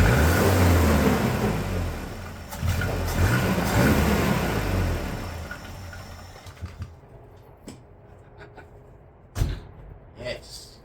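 A 1988 Volvo 240 engine fires up and revs roughly for several seconds, then falls away as it fails to hold idle, leaving scattered clunks and brief knocks near the microphone.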